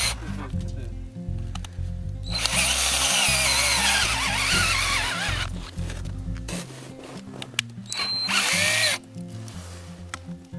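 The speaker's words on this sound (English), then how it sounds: "And a better drill would be nice." Power drill boring a tap hole into a maple tree for syrup, the motor whining in bursts that rise and fall as the bit bites into clean wood, close up with pauses between runs.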